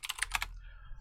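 Quick burst of typing on a computer keyboard, several close, crisp key clicks in rapid succession during a Photoshop design session, then fading into quiet room tone.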